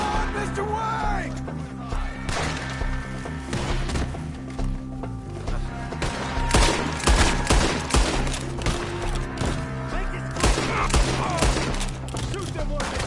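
Dense, continuous gunfire in the video game Red Dead Redemption 2, with repeated loud shots and bursts layered over game music and shouted voices throughout.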